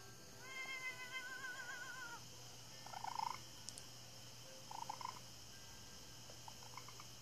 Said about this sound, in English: 14 weird sounds that cats make.